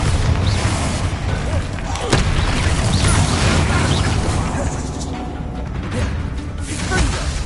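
A Bombardo spell explodes in Hogwarts Legacy, loud booming crashes and whooshes amid dense spell-combat noise that stays heavy throughout.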